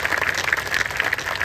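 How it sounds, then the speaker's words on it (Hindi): A crowd at a Hindi comedy poetry gathering claps loudly and steadily, dense continuous applause without voices. "एक बार आप इनके सम्मान में जोरदार तालियां बजाइए।"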